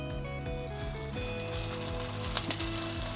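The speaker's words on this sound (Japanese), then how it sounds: "油温まったんで焼いていきます。" Food frying in a tablespoon of sesame oil over medium heat in a home kitchen, giving a steady, dense sizzle with crackling spatters throughout, close and continuous with no talking.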